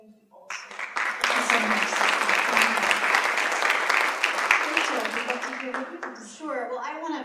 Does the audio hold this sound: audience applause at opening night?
yes